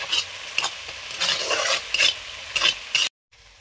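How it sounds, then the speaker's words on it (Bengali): Ground cumin and coriander paste sautéing with a splash of water, stirred in a pan with repeated scraping strokes over a steady sizzle, close and fairly loud, ending abruptly in near silence. "জিরে ধনে বাটা, একটু জল দিয়ে মশলাটা কষবো।"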